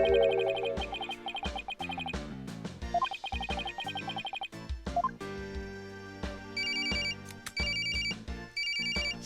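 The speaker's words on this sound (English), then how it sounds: "Oh, that's also a phone." Ringtone from the video game Phoenix Wright: Ace Attorney - Spirit of Justice, a bright electronic phone melody repeating steadily and loudly over several seconds, alone without talk.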